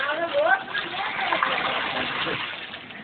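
Water is poured into a large pot at an outdoor biryani catering setup, a steady gushing splash running for a few seconds. A voice talks over it.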